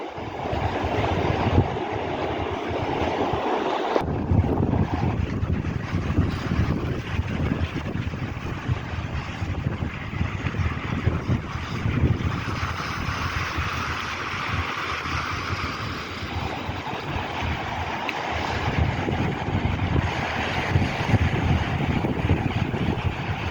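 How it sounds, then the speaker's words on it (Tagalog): Strong wind roars continuously across the microphone, a loud, unbroken rushing noise lasting throughout. "Kusog hangin dito oh."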